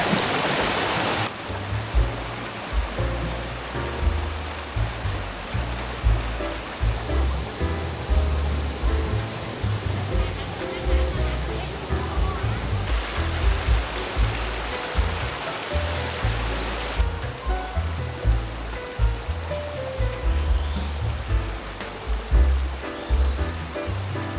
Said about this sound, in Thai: คอนเฟิร์มนะน้ำตกบางบ่อครับ